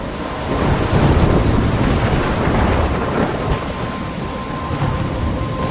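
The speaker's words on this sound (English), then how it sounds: "I'm trapped in a storm?" Thunderstorm with heavy rain in the video game Life Is Strange: loud, dense rainfall with rolling thunder and gusts of wind, continuous throughout with no voices.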